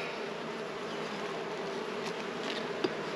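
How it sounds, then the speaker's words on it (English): Honeybees buzz steadily at an opened hive frame during a detailed inspection, a dense, even hum held close to the ear throughout with no talk over it. "There's a new hatch bee right there crawling."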